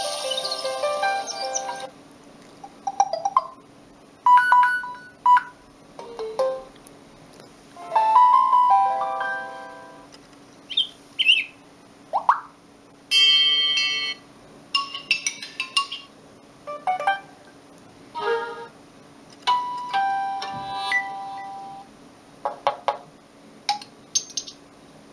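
Short melodic ringtone and SMS alert tunes from a Samsung GT-C3322i mobile phone, a series of brief bright electronic beeps and jingles separated by gaps, played one after another with no talking.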